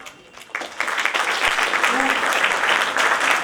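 An audience of about 200 people at an inspirational speech competition breaks into sustained applause, swelling after a short moment and staying broad and even, with a faint voice near the start.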